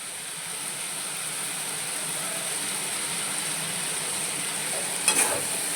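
Bitter gourd, potato and onion fry in a pan with a constant, even hiss, and a brief utensil scrape near the end as the pieces are stirred.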